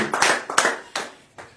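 Four sharp, near hand claps from a church congregation come in an uneven rhythm, each ringing briefly in the room.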